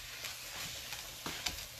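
Meat cooking in a pan for Tex-Mex enchiladas, onion to be added after the fat is drained: a faint, steady sizzle with a few soft stirring knocks.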